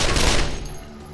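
A tactical shotgun fires in the turn-based game Wasteland 2, a loud burst of overlapping blasts that quickly dies into a fading rumbling tail.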